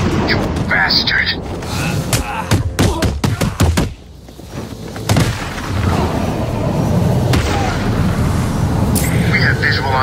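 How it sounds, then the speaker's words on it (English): Explosions and gunfire in the video game Batman: Arkham City, a rapid series of sharp cracks followed by heavy rumbling blasts and sustained roaring noise, with voices talking over parts of it. "We have visual on the explosion."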